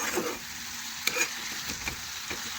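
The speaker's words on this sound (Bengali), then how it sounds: "ভালোভাবে রসুন বাটা নাড়াচাড়া করে মিশিয়ে নিয়েছি" Garlic paste being stirred into chicken masala frying in a pan: a steady sizzle broken by a few scraping stir strokes and light clinks, close and moderately quiet.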